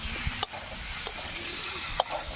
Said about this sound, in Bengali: এখানে ভেজে রাখা আলুটা দিয়ে দেবো, একটু ভালো করে নাড়াচাড়া করে নেব।